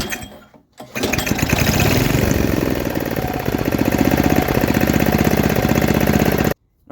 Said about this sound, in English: let's start it up one more time to see how it runs on like idle